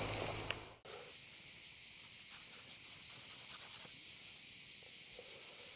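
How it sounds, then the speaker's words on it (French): Cicadas buzz in the hot Gorges de l'Hérault during an outdoor painting session, a dense, steady high-pitched drone that cuts out sharply after a moment and then resumes at an even level throughout. "Vous attendez les cigales."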